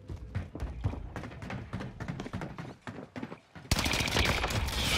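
Gunfire in Call of Duty Warzone on the Caldera map in Plunder mode: rapid bursts of sharp shots in quick succession, fairly close, ending in a louder dense rattle with no talking.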